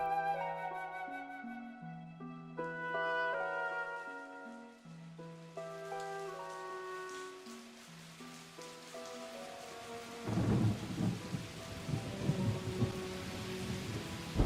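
Thunderstorm with heavy rain arrives after a stretch of soft melodic tones; a deep, loud rumble of thunder breaks in near the end and continues under dense rain.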